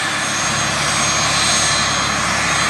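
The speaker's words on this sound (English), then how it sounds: "Good looking plane." A plane flying in to land gives a steady, loud engine roar with a broad rushing drone that holds fairly even and stays close throughout, with no speech.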